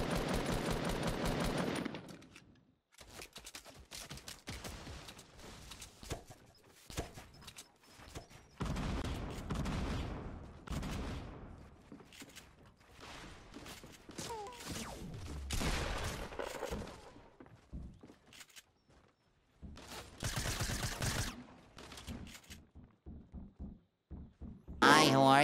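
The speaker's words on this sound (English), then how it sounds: "Why do I have two motherfuckers shooting at me?" Bursts of video game gunfire in Fortnite, rapid automatic shots coming in clusters across the stretch, loud and close, mixed with game sounds while a player talks over much of it.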